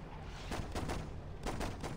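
Video game gunfire in Saints Row rattles out in rapid bursts of shots at low overall volume, with a short pause before another volley.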